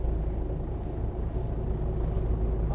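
A boat engine drones steadily while travelling out to sea toward buoys and aquaculture sites, a low continuous rumble with water noise, fairly close and even.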